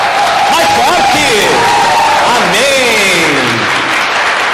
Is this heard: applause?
yes